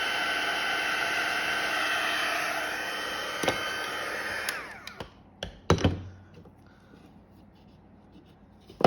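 A heat tool blows steadily and loudly onto clear embossing powder for about four seconds, then shuts off. A few sharp knocks and clunks follow in near silence.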